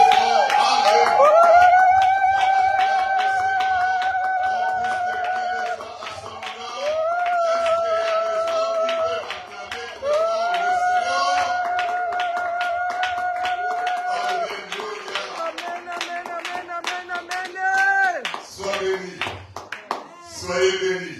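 A church congregation at a French-language service cheers with sustained raised voices, then bursts into rapid, scattered clapping that grows busier toward the end.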